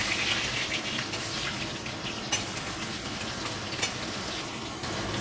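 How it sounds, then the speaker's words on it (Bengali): Potatoes frying in hot oil in a wok for a Bengali fish and cauliflower curry, a loud, steady, crackling sizzle that carries on without a break through the whole stretch, with no voices over it. "আলুগুলো আগে ভাজবো।"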